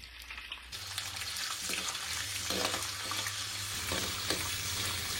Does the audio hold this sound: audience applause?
no